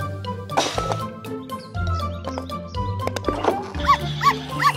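Short, high-pitched cartoon puppy barks pop up over a busy bed of music and animated sound effects, with a few quick yips near the end.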